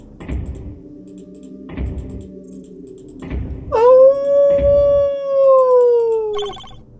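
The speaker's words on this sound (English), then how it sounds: "Why are there dogs howling in the background?" Dogs howl in the background music of the puzzle game Submachine 7, a single long, loud wavering howl rising then slowly falling over a few seconds, layered over regular soft thumping beats and ambient tones.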